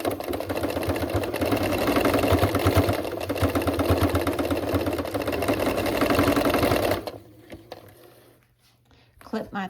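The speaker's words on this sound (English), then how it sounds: "I'm gonna secure it right there" A sewing machine runs in a steady rapid stitching whir for several seconds, then stops abruptly, leaving quiet room noise.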